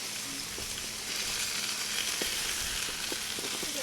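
Small chicken pieces sizzling in a hot pan or on a grill, a steady close crackle and hiss with scattered sharp pops, no talking.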